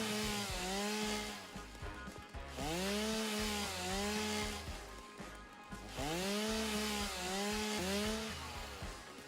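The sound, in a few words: chainsaw cutting trees in a video game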